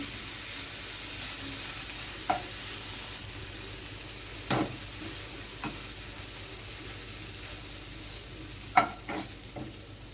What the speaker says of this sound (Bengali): এবার আমি সয়াবিনটা এতে দিয়ে দিচ্ছি একটু ভাজা ভাজা করব